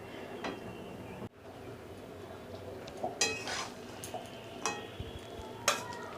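Cooked vegetables, potatoes and bhetki fish bones transferred from a pot into a bowl: metal spoon scrapes and clinks against cookware, a few sharp knocks spaced irregularly over a faint background hiss.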